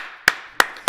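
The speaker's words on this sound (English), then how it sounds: "I'm clapping for you dumping it" Three sharp hand claps ring out at a steady spaced rhythm, close and crisp, over a faint background hum.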